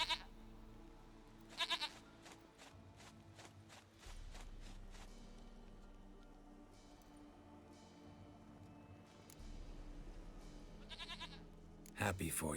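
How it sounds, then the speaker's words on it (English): Goat bleating in the video game The Witcher 3, several short bleats scattered through the clip, the strongest near the start and end, with game music and a narrator's voice running underneath. "Goat of mine, dearest,"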